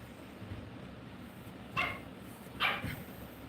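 Dog barking twice, a pair of sharp, fairly close barks with a short pause between them over a quiet indoor background.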